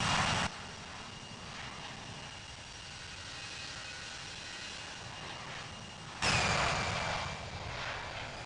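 A fixed-wing aircraft's engine drones steadily in the distance during a takeoff at London Heathrow, with two brief louder bursts of noise, one at the start and one near the end.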